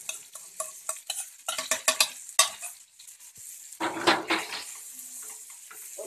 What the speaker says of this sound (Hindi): और इसे अच्छे से मिक्स कर लेंगे।